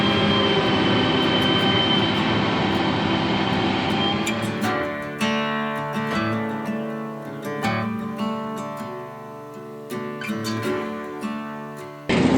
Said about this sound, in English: The CVT transmission on this tractor works really good to fill it up